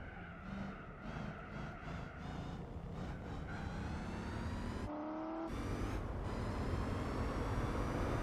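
A Jaguar XJ220 racing in Gran Turismo 4, its V6 engine note droning and rising steadily under acceleration, with a brief gear-shift dip midway before climbing again, loud and close throughout.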